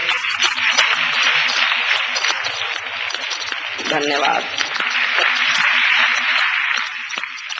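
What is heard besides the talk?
audience applause for the poet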